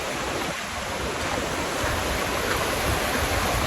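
Atup Atup Falls pours into a flowing stream, giving a dense, steady rush of water that stays loud and unbroken throughout, with no voices.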